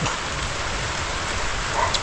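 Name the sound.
rain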